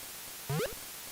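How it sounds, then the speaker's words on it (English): Steady flat hiss of white noise standing in for rain in the Game Boy Color game Harvest Moon GBC, faint and constant throughout, briefly overlaid by a short tonal game blip in the middle. "the rain noise is just white noise."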